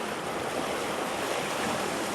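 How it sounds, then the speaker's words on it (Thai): Strong sea waves break along the shore in a steady, loud roar of surf with wind, and nobody speaks. "คลื่นจ้ะ"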